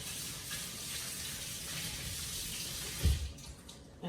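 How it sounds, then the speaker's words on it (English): Liquid running through a strainer while ginger, apple and carrot juice is strained, a soft steady trickling with a brief clunk near the end, fairly faint. "And I strain it again."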